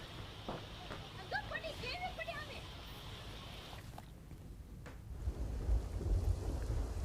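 A monsoon thunderstorm with lightning and rain over Gujarat, a steady rain hiss with a low rumble of thunder building toward the end, and a narrator speaking over it.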